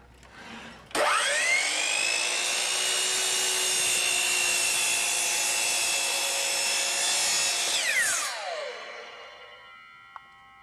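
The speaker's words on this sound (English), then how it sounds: "You can now make the cut knowing that it will follow your line exactly." Hitachi C12RSH compound miter saw cutting through wood: the motor spins up sharply, holds a loud steady whine through the cut for about seven seconds, then winds down with a falling pitch, alone with no talk.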